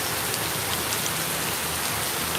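Rain falls on an evening as a steady, even hiss, with a few soft individual drop taps showing through and no voices.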